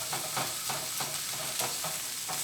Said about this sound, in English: So I'm going to keep stirring that up